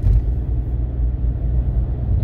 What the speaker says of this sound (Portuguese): Caminhão pesado aqui, ó.